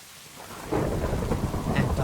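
Rain and thunder in the Minecraft Create: Gears of History world: a dense, steady downpour that suddenly swells with a broad rumbling roll of thunder after a quieter start, staying loud and unbroken with no talk.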